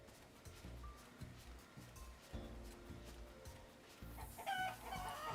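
Chicken clucking from the video game Limbus Company, a live chicken being sliced, comes as a loud, steady run of squawks and clucks over a low rumbling background and grows harsher toward the end.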